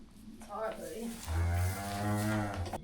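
A bull calf gives a deep, drawn-out moo, close and loud, in a farm setting among cattle, with low voices faintly audible around it.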